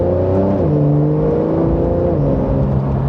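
Porsche 911 Carrera 992.2 sports car engine pulls hard under acceleration, a loud continuous drone with pitch stepping as it climbs, heard close from inside the car with no voices.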